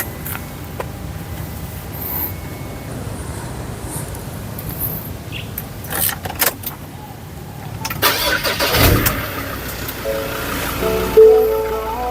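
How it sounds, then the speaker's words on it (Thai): A Ford Everest 3.2 4WD SUV engine cranks and catches, then settles into a steady idle with some broadband rumble and a few knocks and clunks nearby. "เดี๋ยวเรามาลองฟังเสียงเครื่องกันครับ"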